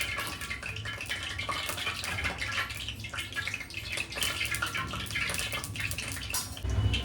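Cooking oil with water in it heats in a pan for frying Maggi vadas, giving off a dense, steady crackle and spitting sizzle that runs evenly throughout, with a low thump near the end.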